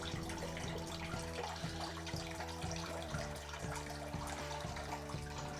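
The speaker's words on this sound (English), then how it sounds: "we get many more separate streams of water, but they are still distinct streams" Several thin streams of water fall through a perforated plate during a homebrewing sparge test, splashing steadily into water below, a continuous close patter with faint tonal ringing underneath.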